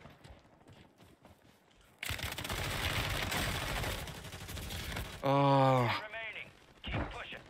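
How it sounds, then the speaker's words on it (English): Sniper gunfire in Call of Duty Warzone, a loud, sustained burst of shots and battle noise breaking in after quieter moments, with a player's brief voice and other game sounds in between. "Oh, I'm getting sniped in the back now."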